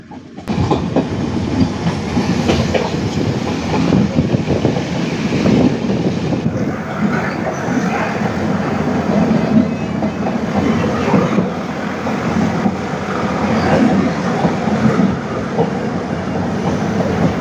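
Heard from inside a train near Ketti station on the way to Ooty, it rumbles steadily along the rails, loud and close, with rhythmic clacking of wheels and cool rushing wind throughout.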